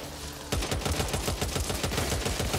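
A shotgun blasts at zombies in the Back 4 Blood video game, firing a rapid, relentless string of loud shots close by after a brief quieter lead-in.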